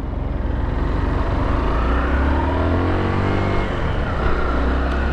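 Engine of a small crosser motorcycle drones steadily and revs while riding in heavy traffic, loud and close throughout, with no voices.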